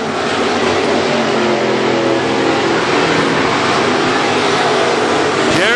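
WISSOTA Midwest Modified race cars roar around the Granite City Speedway oval on the final lap, a loud, steady, dense engine drone that never lets up, with a brief rising whine near the end.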